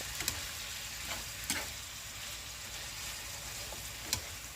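Pieces of pork and fresh garden string beans (sitaw) sizzle steadily in a hot pan for an adobong sitaw dish, a constant close frying hiss with a few faint clicks of stirring and no talk.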